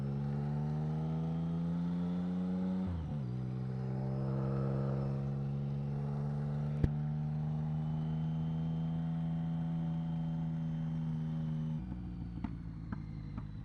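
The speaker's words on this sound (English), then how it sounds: "Damn, look at that backfire." A BMW cafe racer motorcycle idles with its choke partly off, its engine note dipping briefly before settling into a steady drone, then a single sharp backfire pop cracks out midway, followed by a few faint ticks.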